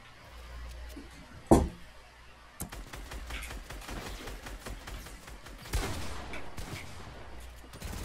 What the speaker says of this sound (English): he had to spam with the SMG